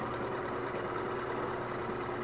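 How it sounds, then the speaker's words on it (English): An induction motor on a slam valve compressed air demo rig spinning at about ten rotations per second, giving a steady, even mechanical hum with no speech. "it's an induction motor, lags a little from a synchronous motor"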